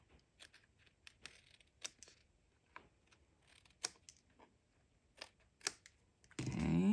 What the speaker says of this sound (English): And some of them I'm just gonna trim with scissors because they're so narrow